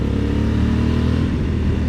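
A 2021 Honda Africa Twin adventure motorcycle engine pulls hard to overtake, a loud, close, continuous drone rising slightly in pitch with no talk.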